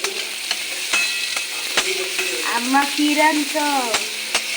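Chopped capsicum and carrot frying in a pan, a loud close sizzle broken by sharp stirring clicks, with a faint voice murmuring underneath.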